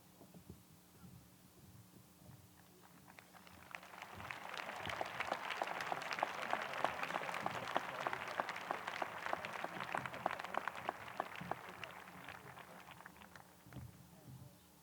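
Applause at the 2000 Shawnee Mission East graduation ceremony for International Baccalaureate candidates swells from a quiet hall into a sustained crowd clapping, then slowly fades away.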